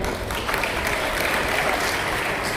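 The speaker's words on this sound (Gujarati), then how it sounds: "તો આપણે બધા તાળીઓ પાડીએ." Steady applause from a school audience at a Jawahar Navodaya Vidyalaya motivational talk: dense, even clapping close by that fills the whole moment with no break and no voices.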